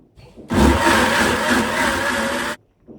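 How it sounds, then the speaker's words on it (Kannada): A kitchen mixer grinder blends puffed rice dosa batter with wheat flour and rock salt, a loud whirring motor burst of about two seconds that starts abruptly and cuts off sharply. "ಹಾಕಿ ಚೆನ್ನಾಗಿ ಮಿಕ್ಸರ್ ಮಾಡ್ತಾಯಿದ್ದೀನಿ"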